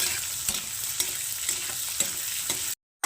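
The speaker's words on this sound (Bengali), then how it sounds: "আদাটাকে একটু ভালো করে ভেজে নেবো এখন" Grated ginger frying with potatoes in a pan, a bright sizzle broken by regular scraping stirs roughly every half second, close, ending abruptly in silence.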